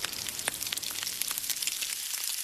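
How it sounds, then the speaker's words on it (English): Bacon sizzling in a pan, a steady hiss with scattered sharp pops and crackles, close and fairly loud, no voices. "This is the sound of bacon frying."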